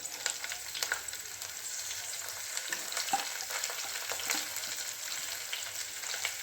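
Curry leaves and sliced green chili fry in a pan, a soft continuous sizzle with light scattered crackles and occasional stirring taps, moderately faint and without talk.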